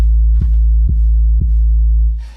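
An 808 bass preset called 808 Narcos from the Octane plugin, a deep sustained booming tone with three soft evenly spaced clicks, loud and alone before fading out.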